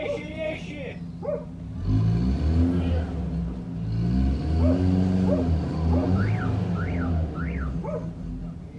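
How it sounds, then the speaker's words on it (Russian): An ambulance stuck in the road strains its engine, revving in long rising and falling surges for several seconds, loud and close, with a siren-like chirp near the end and people talking over it. "Машина скорой помощи около минуты пыхтела на месте."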